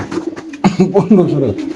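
Large pigeons at a pigeon farm give a low, rolling coo, close and fairly loud, mixed with people talking nearby.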